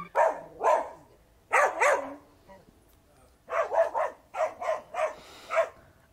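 Dog barking at a whale-shaped pool float, sharp barks in paired and clustered bursts with short pauses between them, fairly close and loud, and no talk over them.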